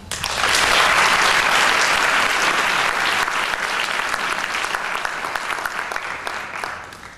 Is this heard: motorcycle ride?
no